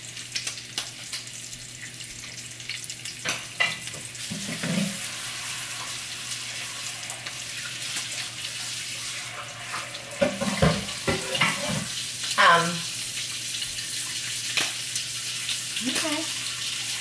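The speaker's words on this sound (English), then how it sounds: "These eggs cooked so fast." Eggs frying in a pan give a steady broadband sizzle throughout, with occasional louder crackles and brief clatters near the middle and end.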